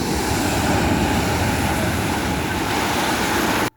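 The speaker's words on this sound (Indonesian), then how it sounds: "Jadi kita duduk nih sambil diterpa ombak" Ocean waves surge onto the shore at Santolo beach, a dense, continuous wash of roaring surf that stays loud and close throughout, then cuts off abruptly at the end; no voices are heard.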